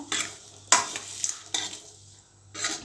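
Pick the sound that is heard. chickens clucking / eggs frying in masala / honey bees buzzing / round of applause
eggs frying in masala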